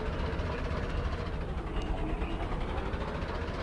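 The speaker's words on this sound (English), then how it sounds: "that the car engine trying to get up this hill" A car engine in the video game Radiation City strains to climb a hill, a dense steady low rumble and drone that holds constant at moderate loudness with no talking.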